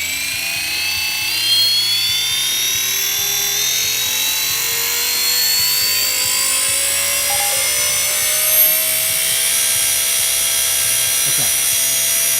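The electric motor of an Oxy 4 RC helicopter with a Hobbywing ESC spools up into a steady, rising whine, held close and continuous, with brief faint sounds from the bench.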